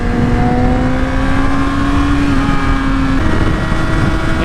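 A 2016 Yamaha R6 sport motorcycle engine runs steadily at high revs above 10,000 RPM, a loud continuous buzzing drone with a slowly shifting pitch, heard up close while riding with wind noise underneath.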